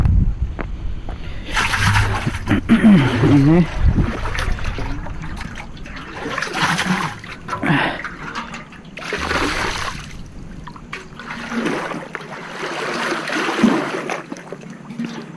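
Drinking water is drawn from a village water source beside a mosque in rural Bangladesh, making repeated bursts of splashing and gushing water that come in uneven surges, close and fairly loud throughout.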